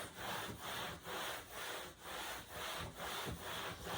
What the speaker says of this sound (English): I'm going to clean my table with a sandy wipe for 30 seconds